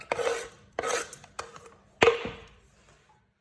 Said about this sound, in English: we're going to get on to chopping the garlic